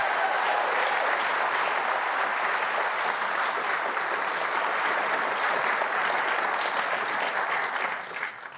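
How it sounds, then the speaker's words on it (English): Audience applause at a live conference event, a dense, steady wash of clapping from a sizeable crowd lasting around eight seconds before thinning out at the end. "Please join me in a round of applause for Simran Kaur from Capital One."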